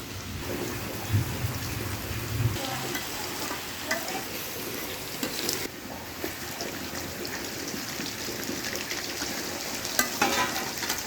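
Potatoes fry in a pan with a dense, steady crackling sizzle like rain, close by, with scattered louder pops and a brief low rumble near the start.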